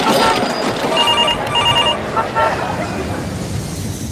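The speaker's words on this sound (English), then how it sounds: "Phones ringing incessantly" Telephones ring in a recorded English listening exercise about noise pollution, repeated electronic trills sounding over a dense, noisy background din that fills the whole stretch.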